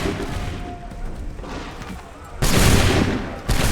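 Soldiers fire a loud, sustained musket volley in Assassin's Creed III, a dense burst of overlapping shots that starts abruptly, rolls on for about a second, then a second volley breaks out near the end over a low battlefield rumble.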